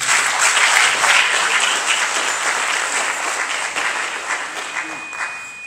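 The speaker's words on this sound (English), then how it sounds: "Can we now clap for the Vice Chancellor?" Audience applause for a university Vice Chancellor at an inaugural lecture, a steady dense wash of clapping from a large hall that holds evenly for several seconds and tapers slightly toward the end.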